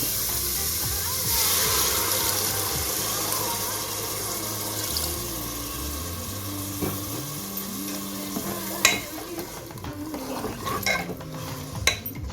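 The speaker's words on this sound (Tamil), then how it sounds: "இது நல்லா மிக்ஸ் பண்ணதுக்கப்புறம் தேவையான அளவு தண்ணி ஊற்றி," Water is poured into a pot of kofta curry masala for beef kofta and stirred, with running, splashing water, scraping of a spoon against the metal pot and a few sharp clinks near the end.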